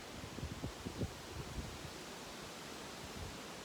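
Wind gusts hard across a hill on a stormy day, whipping a small tree. A steady broadband roar carries scattered bursts of rustling early on, then settles into a continuous blustery hiss.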